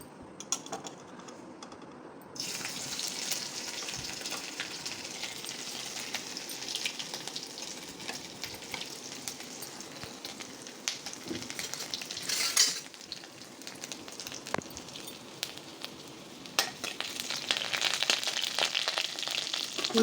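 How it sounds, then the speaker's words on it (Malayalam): A tablespoon of ginger drops into hot coconut oil in a pan and sets off a sudden, steady sizzle of frying that carries on, with occasional light clinks of a utensil. "1 ടേബിൾ സ്പൂൺ ഇഞ്ചി അതിലേക്ക് ഇട്ട് കൊടുക്കുകയാണ്."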